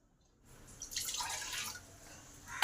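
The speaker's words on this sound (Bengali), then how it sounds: "কড়াতে আগে 2 কাপ জল দিলাম" Water poured into a wok to boil homemade pasta made from leftover dough, a steady splashing pour rising in the middle of the clip with no voices.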